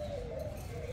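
A spotted dove coos close by in a short, soft, tonal phrase over a low background hum, with no voices.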